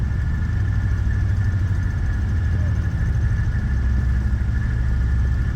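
Four 250 kW linear generators, together about a megawatt, thump steadily beside their exhaust chimney, a loud, continuous low engine-like drone with an even pulsing rhythm and no talk.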